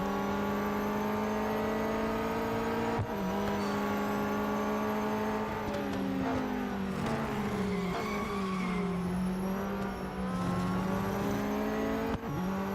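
A Mercedes race car engine in the Real Racing 3 game drones loudly and continuously, its pitch rising and dropping with gear shifts and brief tire skids, with no talk.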